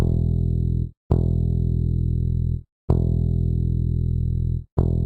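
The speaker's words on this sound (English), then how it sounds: "To get pretty much distorted if you hit the key too hard" A heavily distorted, buzzing low drum sample from the Kontakt 5 Sinister Drums HD expansion plays in three long sustained hits separated by short silences, loud and gritty.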